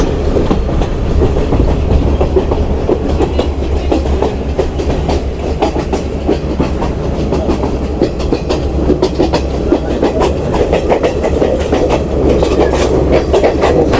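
Steady rumble of a train crossing a bridge between Nuwara Eliya and Ella, Sri Lanka, with rhythmic clickety-clack of wheels on the rails, loud and continuous throughout.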